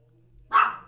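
A single dog barks sharply indoors, one short loud bark over a faint steady hum.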